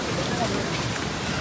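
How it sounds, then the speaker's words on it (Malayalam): Steady, dense rain falls at a misty hilltop resort in Ranipuram, an even close patter and hiss with no breaks. "മഴയുണ്ട്, നല്ല കോടയുണ്ട്."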